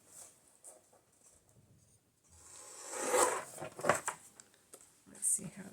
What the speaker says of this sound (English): Cut this off a little bit.